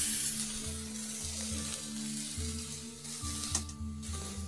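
Spice paste of ginger, cumin, garlic and chili, with a pinch of Kashmiri chili powder, fries in a pan. A steady close sizzle runs throughout with a low steady hum underneath, and no voices.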